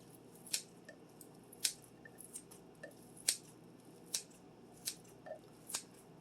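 Kitchen shears snip through ham for a crockpot split pea soup, giving about ten sharp, crisp clicks spaced unevenly apart, close and fairly quiet over a faint room hush.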